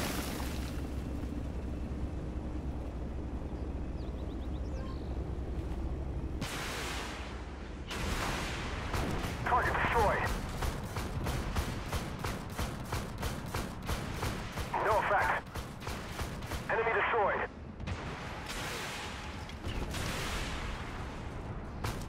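Tank autocannon rounds in Armored Warfare hammer out in rapid bursts after a low engine hum, each string of sharp shots repeating over several seconds, with talk over parts of it.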